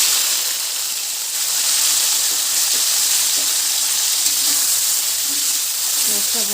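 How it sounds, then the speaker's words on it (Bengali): Small fish frying in hot mustard oil for a vegetable-stalk curry, a close, continuous sizzle with crackling spatters, loud and even throughout, with no talking over it. "এর মধ্যে এখন মাছটা দিয়ে দেবো"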